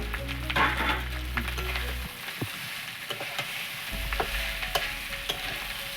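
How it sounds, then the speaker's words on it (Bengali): Rice sautéed in a pan with Kashmiri chili powder, with continuous close sizzling and repeated scraping stirs of a spoon against the pan throughout, no voices. "এবার চালটা সব একবারে দিয়ে দিচ্ছি, দিয়ে এর সাথে কষিয়ে"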